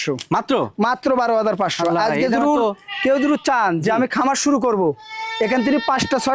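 Goats on a farm bleat loudly and close by, several overlapping wavering cries in quick succession, with a higher drawn-out call near the end and no break between voices.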